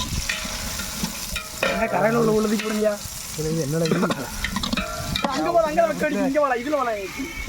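Onions for chicken biryani are stirred in a pot outdoors, a hissing sizzle under loud, overlapping voices talking nearby.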